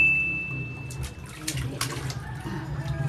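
Water runs and splashes at a sink or basin while a baby's bottom is washed, giving a continuous close trickle with intermittent splashes.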